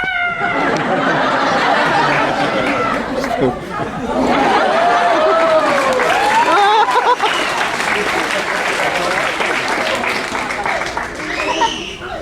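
A theme-park tour crowd at Universal Studios claps and cheers for a guide in a sustained wash of applause, with chatter and a few raised voices running through it.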